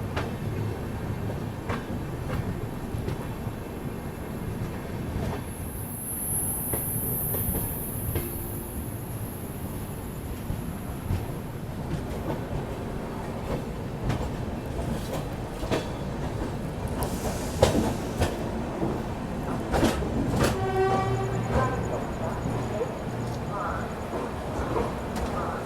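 The 20504 Dibrugarh Rajdhani Express running along the track on approach to Varanasi Junction, a continuous rumble and rhythmic wheel clatter heard from inside the coach, with a brief horn-like tone near the end.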